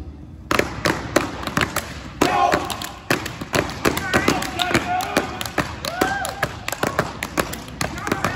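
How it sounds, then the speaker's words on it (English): Kappa men put on a step show: sharp, rhythmic stomps and hand claps ring out loud and close in fast, syncopated bursts, with crowd noise and voices underneath. "A couple boom boom claps and you got yourself a show."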